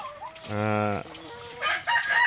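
Hens in a poultry house cluck and call nearby, with one loud drawn-out squawk and a burst of excited cackling, close and clear.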